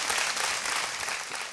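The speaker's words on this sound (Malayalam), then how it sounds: "ആ ചേച്ചിയെ കയ്യടി തുടങ്ങി എൻ്റെ അച്ഛനും അമ്മയ്ക്കുള്ള കയ്യടി" Audience applause at a motivational camp session in Kottayam, a dense wash of clapping that holds steady and close for the whole moment, with no speech over it.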